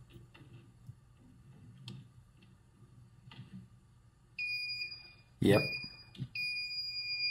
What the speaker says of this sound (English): It'll beep and light up when you find the correct breaker.